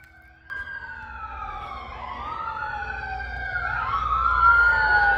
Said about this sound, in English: We never have sirens here, and 4 police vehicles just went up the road